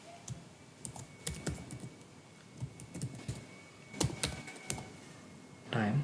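Keys clatter on a computer keyboard in short irregular bursts of quiet clicks as a servlet name is typed in, with small pauses between words.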